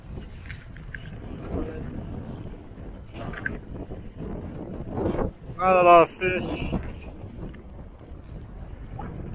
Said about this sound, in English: It's a lot of wind. It's too windy.